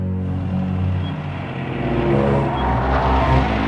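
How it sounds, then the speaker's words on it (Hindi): A car pulling away, its engine rumbling loudly nearby and then swelling as it accelerates, a steady low drone with no voices over it. "अरे ये तो दिव्या मैडम की गाड़ी निकल गई यार"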